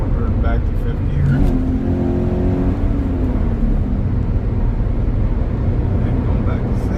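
Car engine droning steadily in a higher gear around 72 to 73 mph on a test drive, with a brief pitch sweep as gears change, loud and continuous under road noise.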